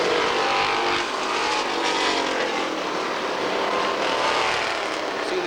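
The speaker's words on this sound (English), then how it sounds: "See the cars moving around the track now." Street stock race cars warm up on a track, giving a continuous loud engine roar that stays dense and steady with slight swells as the cars circle.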